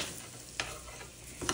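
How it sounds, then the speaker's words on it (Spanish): Rice frying in oil in a pan is stirred, giving a steady sizzle with a couple of scraping strokes of the spoon against the pan. "Aquí vamos a revolver."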